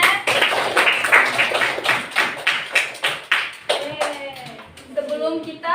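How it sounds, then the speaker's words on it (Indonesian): A school class claps in quick bursts for several seconds, then voices begin talking as the clapping fades. "Tepuk tangan semuanya."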